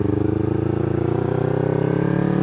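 A Honda CB150R SE motorcycle engine idles steadily and close, a rhythmic low thrum with no speech over it.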